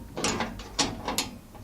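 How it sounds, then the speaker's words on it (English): Several quick ratcheting clicks in short bursts, a wrench being cranked up close with a steady metallic ratchet rhythm and no talking. "having these ratchet wrenches are awesome. Give it a crank"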